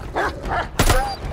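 A dog barks in Call of Duty: Vanguard, two short yips and then a louder, sharper bark with a thump, all close by.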